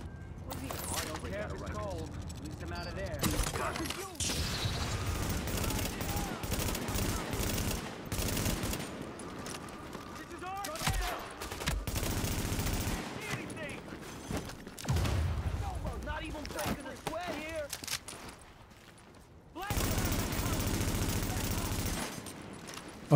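Gunfire in The Division, a shooter video game, comes as bursts of rapid automatic shots and single cracks that start and stop abruptly, mixed with game effects and someone talking over parts of it.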